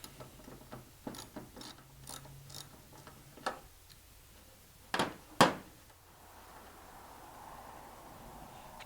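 Wrench loosening a nut from a bonding strap on a 1943 Willys MB, quiet scattered metallic ticks and ratcheting clicks followed by a few sharper clanks, close up in a quiet room.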